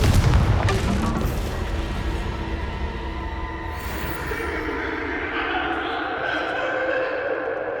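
A Confringo blasting spell explodes in Hogwarts Legacy: a loud, deep boom at the start that rolls into a sustained rumble and fades over several seconds, with game sounds continuing underneath.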